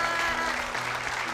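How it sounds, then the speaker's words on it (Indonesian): Studio audience on an Indonesian TV comedy show applauds steadily, a dense wash of clapping that stays loud and even throughout the brief moment. "kita kasih tepuk tangan dulu untuk Pak"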